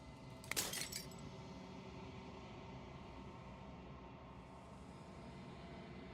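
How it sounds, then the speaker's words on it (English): Glass shattering in the video game Slay the Princess: a single brief bright crash and tinkle near the start, then a long quiet low drone fills the rest. "As the final fragment of glass shatters"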